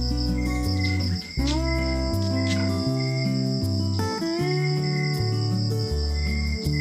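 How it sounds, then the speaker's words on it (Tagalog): Crickets and other insects chirp steadily through a quiet rural night. A layered, continuous drone of overlapping trills carries a faint, distant bird-like call within it. "mga kulisap lang ang maririnig at malalayo din ang mga kapitbahay."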